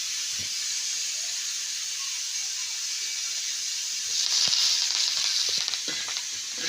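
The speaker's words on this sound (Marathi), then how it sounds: "चांगलं परतून द्यायचं लाल होण्यापर्यंत व्यवस्थित हलवून घ्यायचं आहे" Coriander seeds and masala roast on a wood stove, a soft steady hiss that swells louder partway through, with a few light scraping stirs; no one talks.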